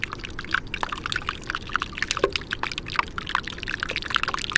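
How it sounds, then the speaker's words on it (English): Ancient air escaping from melting glacier ice in Glacier Bay, Alaska, makes a dense, steady crackle of tiny pops and fizzing bubbles right beside a boat's bow, loud and continuous. "Atmospheric burps from another time bubbling by the bow of your boat."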